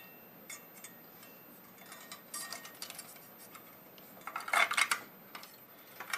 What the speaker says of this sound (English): So now we put on the washer and the nut.